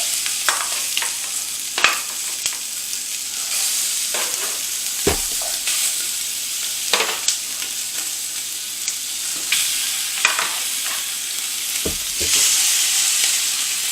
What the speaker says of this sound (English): this pan is searing hot, and we are ready to go.